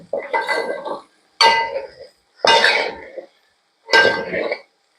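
Soya fry being stirred in a cooking pan, with four separate scraping, clinking bursts of a spoon against the pan, each about a second long with short pauses between, close and fairly loud.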